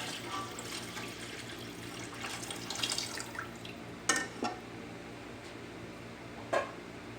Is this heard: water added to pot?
yes